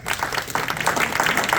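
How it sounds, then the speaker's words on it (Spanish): A congregation claps together during a church service, a loud, close burst of dense applause that runs continuously without any voices over it. "le damos un fuerte aplauso a Cristo"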